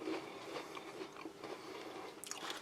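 Someone bites into a light, crumbly wheat cracker from a Kazakhstan 24-hour ration, producing soft, close crunches and chewing in a quiet setting, with a sharper crumbling crunch near the end.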